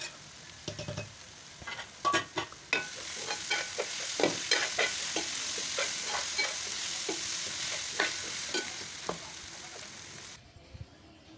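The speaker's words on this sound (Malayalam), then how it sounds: "ബീഫ് വെന്തോന്ന് അറിയാൻ വേണ്ടി ഒന്നുകൂടി, വേവാറൊന്നും ആയില്ല, എന്നാലും ഒന്ന് ഇളക്കിയിട്ട് കൊടുക്കുവാണ്" Beef cooking in a pan is stirred in a run of rhythmic scrapes and clacks over a steady sizzle, the strokes close and fairly loud, before it cuts to near silence at the very end.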